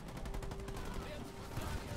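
Marines firing weapons in Halo Wars 2: a dense, continuous barrage of rapid gunshots, fairly near, with overlapping bursts forming a steady rattle throughout.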